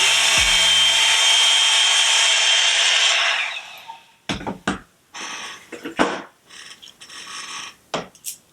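A hair dryer blows on a wig, a loud steady rushing whoosh lasting about four seconds before cutting off. Scattered knocks and handling noises follow in near silence.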